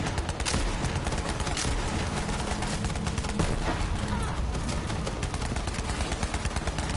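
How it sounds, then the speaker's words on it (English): Dense, continuous gunfire from the Borderlands 3 video game as enemies are shot down: rapid overlapping bursts fill the whole stretch, loud and close, with no pause. "I'll just shoot down these other ones."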